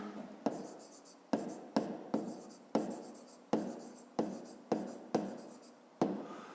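A pen writes a measurement onto paper in about ten firm, rhythmic strokes, each starting with a sharp tap and trailing into a scratchy scrawl, close and clear with no talking.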